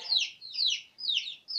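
Chickens on a small farm poultry pen, giving a few short, bright clucking calls in three quick bursts, fairly close and with no talk.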